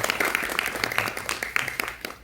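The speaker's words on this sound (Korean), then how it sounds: "감독님께 박수 한번 보내주시면 좋겠습니다" A festival audience at a 4.3 film screening applauds the documentary director, a dense wash of clapping that holds steady and then fades out at the end.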